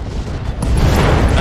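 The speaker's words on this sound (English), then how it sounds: "Oh, ammo explosion." A heavy ammunition explosion in the BattleTech Roguetech mech game, a loud blast that rolls in at about the halfway point and keeps booming and rumbling to the end.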